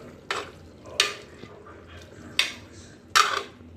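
Dal being stirred in a cooking pot: four sharp scraping clinks of a spoon against the metal at uneven intervals, close and fairly loud over a faint sizzling background.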